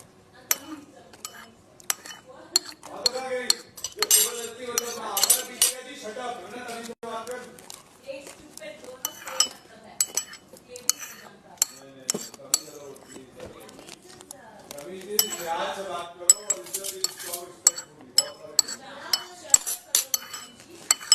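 Spoons clinking and scraping against dishes while cheese and omelette are eaten, in frequent irregular taps under lively conversation.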